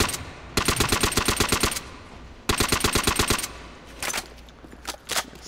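In a zombie video game, a gun fires two long rapid automatic bursts, loud and close, followed by a few shorter scattered shots.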